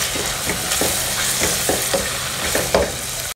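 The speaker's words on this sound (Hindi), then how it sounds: "तो प्याज हो गया यहाँ पे फ्राई" Onions fry in a pan, a continuous crackling sizzle broken by regular stirring scrapes roughly every half second, close and alone without voices.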